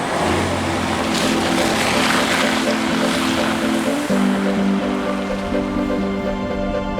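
A Rolls-Royce SUV ploughs through a big muddy puddle, with a steady broadband rush of splashing water over a low, droning engine hum that shifts pitch partway through. No one speaks.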